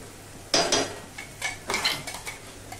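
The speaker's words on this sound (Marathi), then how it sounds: "हा लसूण मिरचीचा खरडा सगळा मी याच्यामध्ये घालून घेतला। छान हलवायचं।" Garlic-chilli kharda being stirred into dill (shepu) bhaji in a pan, with a few scraping, clinking spoon strokes against the metal, close and fairly faint, in short bursts separated by pauses.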